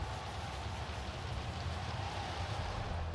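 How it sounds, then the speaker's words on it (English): Steady rain falls across a cricket ground during a Lanka Premier League match, an even, continuous hiss of drops with no break or change in strength throughout. "The rain has started to fall steadily"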